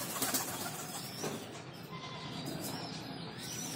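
Lakkha and local crossbred pigeons coo in a busy colony, soft throaty calls overlapping steadily at close range with a dense wash of wing and background bird noise.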